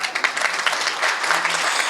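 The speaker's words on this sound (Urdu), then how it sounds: "آپ کی تالیوں کی آواز کوئی مزے کی نہیں لگی مجھے" Children clap together at a school event in Quetta, a brief burst of close, uneven applause with distinct individual claps standing out.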